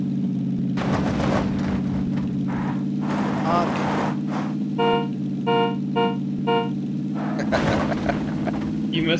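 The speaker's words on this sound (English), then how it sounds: "I initially went by them and honked at them" A car horn in PUBG honks in a string of short toots over a steady engine drone, loud and close, with players talking over it.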